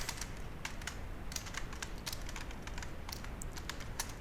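PHP code being typed on a computer keyboard: quick, irregular clicking keystrokes, close and fairly faint, with no talking.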